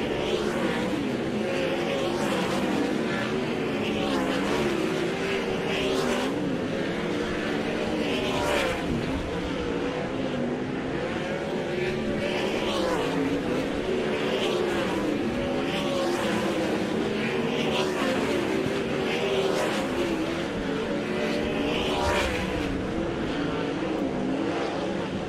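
Race cars in a hot lap session at East Bay Raceway roar steadily around the dirt track, a constant loud engine drone with rising and falling passes and no break.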